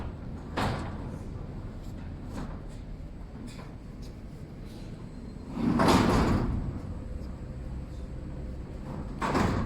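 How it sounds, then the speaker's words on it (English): A sliding door on a fully enclosed cutting machine is pushed open with a loud, broadband rolling rush peaking midway, after a few lighter knocks and clatters, set against a steady low workshop hum. "We install the sliding doors"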